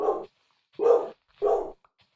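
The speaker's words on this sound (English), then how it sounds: "I was hoping to get through the whole video without my dog barking." A dog indoors barks three times in evenly spaced, loud, close bursts with silence between them.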